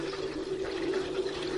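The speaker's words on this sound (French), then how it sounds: "Le robinet de l'eau froide." Water runs from a cold-water tap as a steady, faint, continuous rushing stream, with no talking over it.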